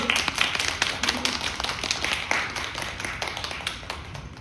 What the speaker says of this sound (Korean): 박수 더 크게 감사합니다